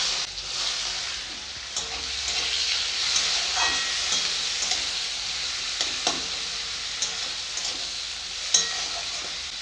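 Onion fries in a pan with a steady, moderate sizzle and occasional clicks and scrapes from stirring, with no talking.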